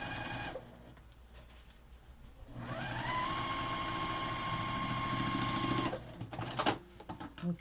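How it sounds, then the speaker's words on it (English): A sewing machine stitches along the edge of quilt fabric, starting after a pause and running in a steady, close mechanical whir for several seconds before stopping, with a few clicks and handling noises afterward. "I'm sewing as close as I can to the edge of my fabric here"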